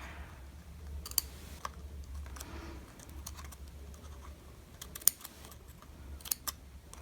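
Scissors snip paper fringe for a handmade kawaii mermaid bookmark, with a few sharp close clicks and soft scratchy cuts spread over a quiet room hum.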